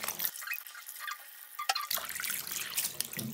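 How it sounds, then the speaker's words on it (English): Tap water runs in a sink while items are rinsed one at a time, a steady splashing flow with brief drips and pauses, close by and moderately loud with no talking. "give each one a quick rinse"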